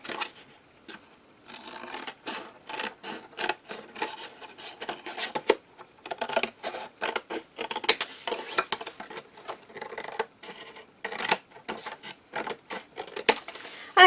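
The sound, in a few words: cutting flaps off a cardboard box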